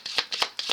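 A deck of playing cards is shuffled in three quick riffles, each a brisk, close ripple of flicking cards with short pauses between.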